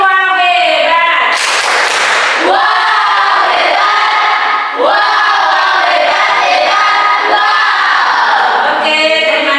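A classroom of children gives a loud clapping cheer for the winner, chanting together in unison with sharp claps, close and energetic, filling the whole stretch with little pause.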